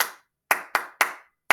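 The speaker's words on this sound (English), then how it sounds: "then we clap" Crisp, close hand claps ring out in a steady rhythm, four sharp claps with short gaps between them and nothing else heard.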